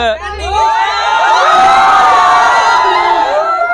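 A large crowd of moviegoers outside a cinema for the Khesari Lal film Sangharsh 2 cheers and shouts loudly. Whoops and children's yells swell into a continuous, close roar.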